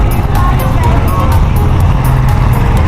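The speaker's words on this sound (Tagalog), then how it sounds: "Ganito ka-traffic na to." Heavy road traffic during a town fiesta in Caticlan, a steady loud rumble of engines close by with a constant hum and faint crowd noise mixed in.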